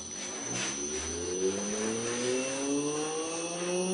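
A motor generator rig with an incandescent light bulb load starts up, its steady whine rising smoothly in pitch as it accelerates toward speed, with no talk.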